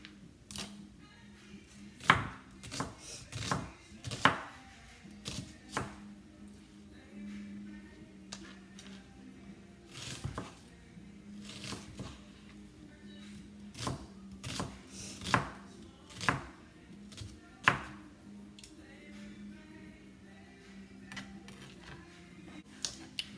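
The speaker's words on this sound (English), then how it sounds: "we got our onion chopped up" An onion being chopped with a knife on a board for Creole smothered chicken wings, with sharp, uneven knife strikes coming in bursts and clusters over a quiet kitchen background.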